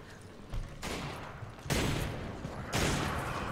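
Gunshots in Resident Evil 5, three broad bursts of firing that each hit hard and ring out, separated by brief quieter gaps, fairly faint overall with little talk.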